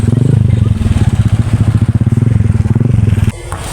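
Motorcycles running close by, a loud, rapidly pulsing engine putter that holds steady for several seconds before cutting away to quieter background noise.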